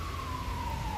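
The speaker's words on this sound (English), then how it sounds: "That's why you keep hearing ambulances." An ambulance siren sounds on a street beside a park in hot weather. One faint, distant siren tone glides slowly downward over a low rumble of background noise.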